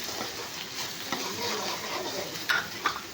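Vegetables being stirred in a pan with red chilli powder, black masala, turmeric and salt, a steady soft sizzle with scraping, and a couple of sharper spoon clinks near the end.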